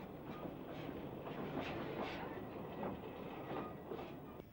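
A vintage narrow gauge steam railway train draws into a small rural station, a steady rumbling roll with soft rhythmic wheel clatter at moderate distance, continuous throughout with no talk.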